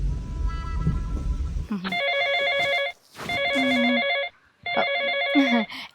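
An incoming call sets off a mobile phone's ringtone in a rural setting, with three loud bursts of a repeating electronic melody separated by brief silences. Low rumbling noise comes first, and no one is talking.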